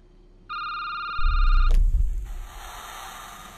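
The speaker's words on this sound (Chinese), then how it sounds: "电话又响" A telephone rings in a game setting with a steady electronic trill, followed by a low rumbling thud and a fading noisy tail.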